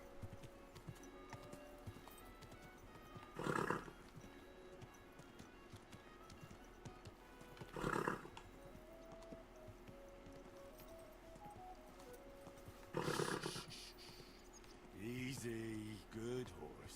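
Horse sounds in the video game Kingdom Come: Deliverance 2: a few scattered bursts of hooves, then a short wavering whinny near the end, over a steady background bed.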